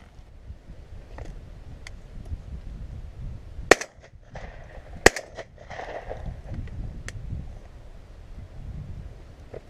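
Two sharp, loud shotgun blasts ring out a little over a second apart while pigeon shooting over decoys outdoors, with wind buffeting the microphone and faint rustling in between.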